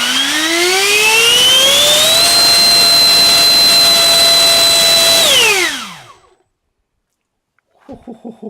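A 90mm electric ducted fan with a Haoye 89mm fan unit and 4076 2250kv motor spins up into a loud, rising whine, holds a steady high-pitched scream, then winds down to silence, followed by brief faint clicks.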